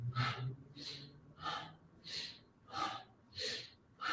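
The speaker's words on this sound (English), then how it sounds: "You can use a nice powerful breath." Powerful yoga breathing, a strong rhythmic series of about seven forceful breaths evenly spaced roughly half a second apart, close and breathy, with no talking.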